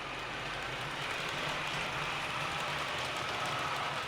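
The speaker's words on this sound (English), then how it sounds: "You'll notice as the train goes past that I've added a bit more rolling stock to the rear just to give this a real test." An Accurascale Class 31 00 gauge model locomotive rolls past hauling a long rake of rolling stock, giving a steady, soft rumble of wheels on model track with no talking.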